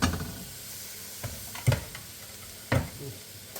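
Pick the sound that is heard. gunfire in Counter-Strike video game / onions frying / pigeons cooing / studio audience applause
onions frying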